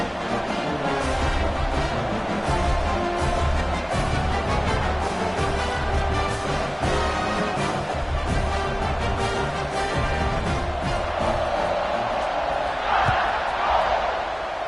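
A crowd in a football stadium roars steadily for the whole stretch, loud and dense, with a commentator talking over it.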